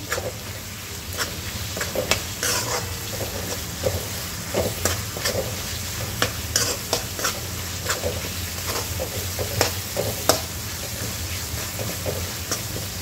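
Dal and onion for Vidarbha-style dal kanda sauté in a pan, a constant sizzle under frequent scraping and stirring strokes that come in an irregular rhythm, close and fairly loud.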